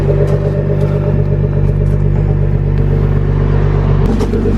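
A Nissan GT-R R35 fitted with an ARMYTRIX exhaust runs loud and close, its deep steady engine drone holding through, with a brief shift in tone near the end and no revving bursts standing out.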